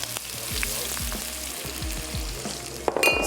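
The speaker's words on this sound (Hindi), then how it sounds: "चॉप्ड प्याज और उसको हमने हल्का सा सौते करना है।" Chopped onion sautés in a hot pan, sizzling loudly and steadily while being stirred, with scraping strokes of the spoon and no voices.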